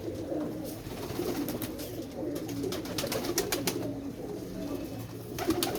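Pigeons cooing close by: soft, repeated low throaty coos with a few sharp clicks and rustles, steady for several seconds with no talking.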